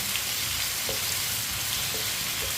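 Potatoes cook in a pan with a steady, soft sizzle, and a spoon gives a few light scraping taps as it stirs them.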